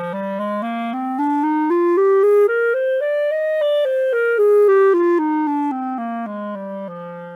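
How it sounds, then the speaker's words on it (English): A solo clarinet plays a smooth, steady scale that climbs step by step and then descends back down, each note sustained and clear, loud and close with no voices. "Now let's hear another instrument, which is called the clarinet. It sounds like this."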